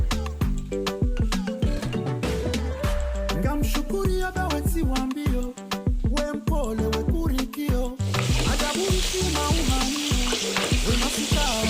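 Fish braise in a frying pan for a Comorian recipe, hot oil crackling and sizzling continuously, with a bright, busier burst of frying in the last few seconds.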